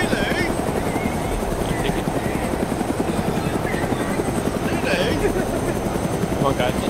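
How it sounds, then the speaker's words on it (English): A helicopter hovers in the military game Arma 3, its rotor giving a steady, fast chopping thrum that stays loud and close throughout, with people talking over it on radio chatter. "I asked for the heli to hover behind for a nice moment."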